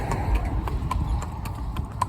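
Steady clip-clop of a chestnut Welsh Cob mare's hooves on a road, shod feet striking the surface in an even trotting rhythm, close by with a faint background hum and no talk.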